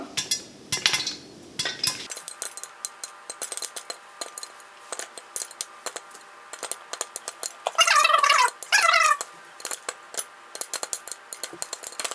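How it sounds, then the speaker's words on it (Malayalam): Popcorn kernels pop in a pan with sharp, irregular crackling pops, scattered at first and then bunching into rapid bursts, close and fairly loud. "അപ്പോൾ പൊട്ടുന്നത് നിങ്ങൾക്ക് വ്യക്തമായിട്ട് കാണാം."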